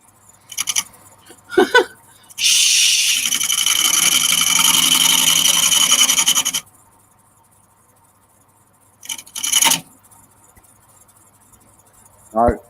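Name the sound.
chisel turning wood on a lathe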